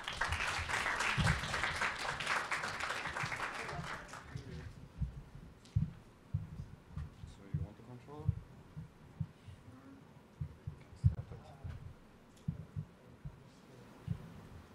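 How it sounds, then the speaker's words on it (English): Audience applause for presenters at a youth talk, a burst of clapping for about four seconds that cuts off, followed by quiet room noise and soft knocks. "a round of applause is yours as well"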